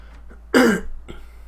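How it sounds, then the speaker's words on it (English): A single short, rough cough from someone with a cold, close and loud, with near silence around it. "Sorry if I'm coughing a lot."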